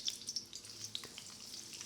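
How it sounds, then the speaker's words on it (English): Sliced shallots sizzle in hot oil in a pan, a faint, steady crackle with small scattered pops, heard close with no voices. "So that's a good heat because they're sizzling up straight away."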